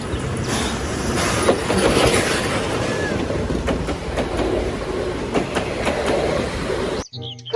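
A Thomas toy train runs with continuous rattling and clattering, punctuated by sharper clicks and a brief squeal, before cutting off abruptly near the end.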